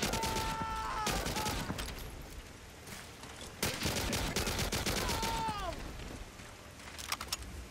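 Rattling bursts of gunfire in the World War II shooter Medal of Honor: Allied Assault Spearhead, repeated volleys of rapid shots over continuous battle noise, fairly loud and close throughout.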